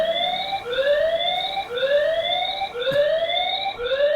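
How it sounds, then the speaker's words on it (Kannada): A loud electronic siren from a security camera's built-in alarm wails in repeated rising sweeps, about one every second and a bit, steady and close with no talking. "ನಿಮಗೆ ಸೈರನ್ ಯಾವ ಥರ ಕೂಗುತ್ತೆ ಅನ್ನೋದನ್ನು ಕೂಡ ನಿಮಗೆ ತೋರಿಸ್ತೀನಿ"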